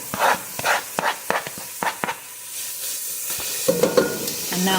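Carrots saute in a pan for Ukrainian sauerkraut soup, giving a soft steady sizzle. Repeated scraping stirs cut through it in an uneven rhythm, close by.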